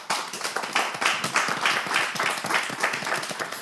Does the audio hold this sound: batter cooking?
no